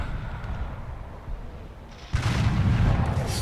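A tank cannon fires in the War Thunder video game, a sudden loud boom cutting through a low engine rumble and then leaving a sustained roaring blast.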